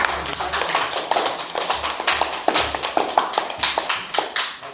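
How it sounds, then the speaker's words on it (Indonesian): Students in a classroom applaud their project groups with dense, close clapping that comes in uneven surges and bursts of sharp, loud hand strikes, without speech. "Tepuk tangan lagi untuk kelompok 3 dan kelompok 1, 2"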